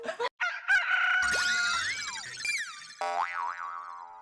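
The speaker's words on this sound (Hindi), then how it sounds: "तुम्हें मुर्गी की आवाज आई अभी?" Rooster crowing in a comedy scene, loud and close, with stylized swooping cartoon-like pitch sweeps and a wavering tail rather than a plain natural crow.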